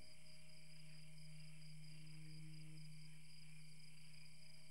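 Crickets chirping in Minecraft ambience, a faint steady high trill with a low hum under it and no talk.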